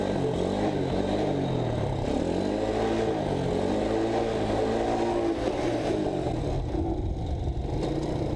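A Kawasaki Z125 Pro motorcycle engine revs hard and holds a loud, close, continuous drone with rising and falling pitch as the rider pulls wheelies.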